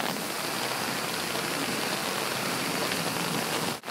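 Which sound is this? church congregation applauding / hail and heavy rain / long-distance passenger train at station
hail and heavy rain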